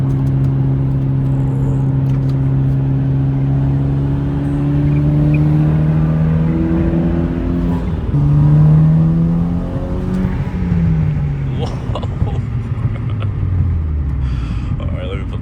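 A Mitsubishi Evo engine drones steadily, then rises and shifts pitch as it accelerates through gears, a loud rumbling whine recorded from inside the car.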